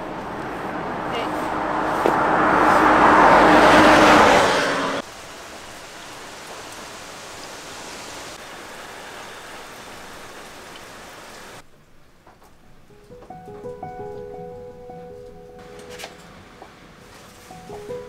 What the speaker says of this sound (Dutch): We zitten in een hut op de camping om te schuilen voor de regen.